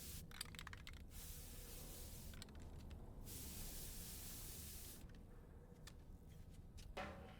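A spray can dyes a character's hair in the video game Death Stranding 2, giving faint, sustained hissing bursts separated by brief breaks.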